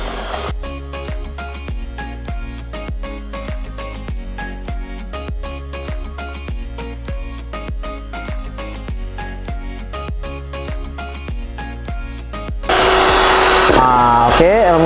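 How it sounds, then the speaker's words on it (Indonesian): Rhythmic music plays for most of the stretch, then an electric mixer beating sponge cake batter for a choco cappuccino dome cake cuts in near the end with a loud, close, steady whirring drone. "kita akan mixer sampai kental berjejak ya"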